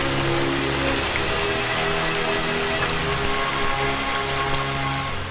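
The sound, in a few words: rain falling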